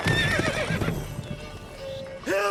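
In the video game The Witcher 3: Wild Hunt, a horse snorts and whinnies close by, mixed with hoof clatter and game sounds, ending in a short rising neigh.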